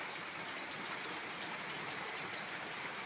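Steady, even rain falls in a dense hiss, constant and close, with no voices.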